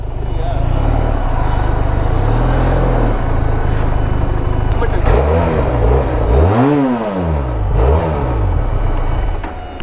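A motorbike engine runs and revs up and down loudly nearby, with pitch sweeping through rising and falling revs on a college campus, while people talk over it.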